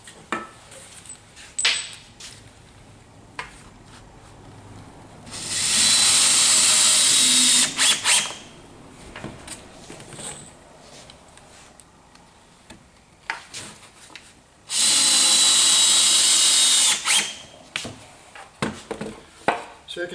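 Power drill driving a screw into a wooden wedge on a housed stair stringer template, two loud whirring bursts of a few seconds each, separated by clicks, taps and handling noises.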